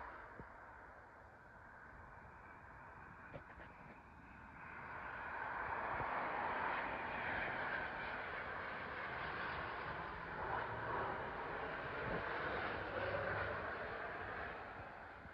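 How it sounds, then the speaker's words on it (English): A Finnair Airbus A350 landing at London Heathrow, its engine rumble rising from a faint distant hum into a broad, steady roar that holds through the rest of the passage, with no voices. "Coming in now is a Finnair Airbus A350 from Helsinki, terminating here at London Heathrow."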